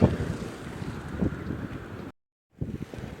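Strong, cold wind off the sea in Gdańsk buffets the microphone, a continuous rushing roar that cuts out briefly before gusting again.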